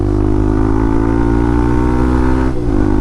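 A motorcycle on a winding mountain road drones steadily and loudly, close to the mic, its engine pitch holding even before dipping briefly near the end as the rider eases off.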